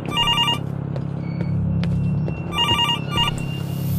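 A telephone in the horror game Infliction gives two bursts of electronic trilling rings over a low rumbling ambience, loud and close, with a few faint clicks between rings.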